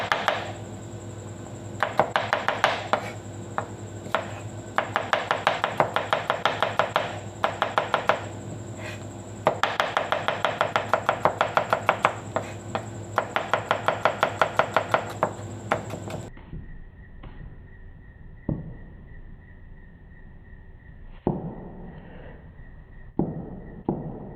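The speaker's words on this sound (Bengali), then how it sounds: "স্লাইস করে কেটে নেব এখন।" Okra is sliced with a knife on a board in rapid, even close chopping taps for about sixteen seconds, then a few sparse knocks and handling clatter follow under a faint steady tone.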